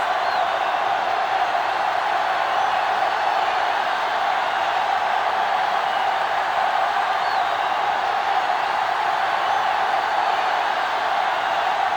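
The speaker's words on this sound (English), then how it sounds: "the crowd in full throat as we get this new season started with the kickoff" A crowd roars at kickoff in the Madden 2005 football video game, a steady dense wash of stadium noise that stays loud and unbroken.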